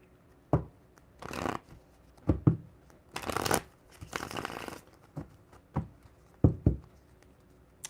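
Tarot cards shuffled by hand in short bursts, with sharp taps and longer papery riffles spaced by pauses, close and quiet with no talk.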